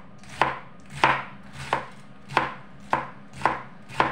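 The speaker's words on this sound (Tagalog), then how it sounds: "So, wala do cutting the vegetable guys." Knife chopping cabbage on a board in seven evenly spaced, crisp thuds, close and clear with no talk.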